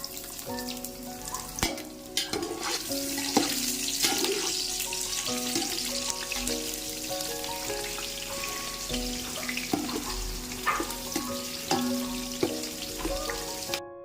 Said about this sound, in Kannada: ಮತ್ತು ಈಗ ಇದಕ್ಕೆ ಒಂದು ಈರುಳ್ಳಿನ ಕಟ್ ಮಾಡಿ ಇಟ್ಕೊಂಡಿದ್ದೀನಿ ಇದನ್ನು ಕೂಡ ಸೇರಿಸ್ಕೊತಾ ಇದ್ದೀನಿ